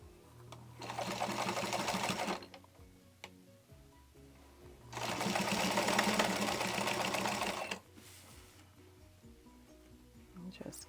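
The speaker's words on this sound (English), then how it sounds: "My old antique 1948 Singer has a reverse feature on it, which is really nice." An antique 1948 Singer sewing machine running a reverse back stitch along a seam, two sustained whirring bursts of rapid needle clatter separated by a quiet pause, close and fairly soft.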